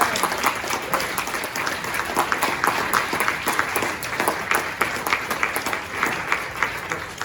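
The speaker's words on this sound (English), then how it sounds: "Everybody applauds" A keynote audience at a brain injury association event applauds steadily, many hands clapping in a dense, even wash of sound with no talking.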